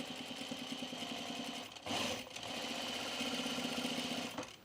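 A sewing machine stitches a V-neck coat in a fast, even whirring hum, with a brief louder scrape and shift partway through before the steady run resumes.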